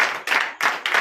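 A church congregation at a night deliverance service in Comè, Benin, applauds in a few loud, rolling bursts of clapping, close and full.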